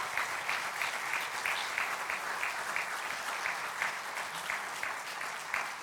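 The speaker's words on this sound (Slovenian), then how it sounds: "In mu zaploskajmo." An audience at the 70th anniversary celebration of the Krka table tennis club in Novo mesto claps warmly, a dense, steady round of applause filling the hall from start to finish.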